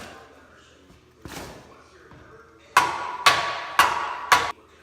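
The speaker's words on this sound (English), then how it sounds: "neoprene bushing, and we're going to drive that in." Four sharp, evenly spaced hammer blows drive a neoprene bushing into a Ford Mustang subframe in a garage. Fainter shuffling and knocks come before the blows.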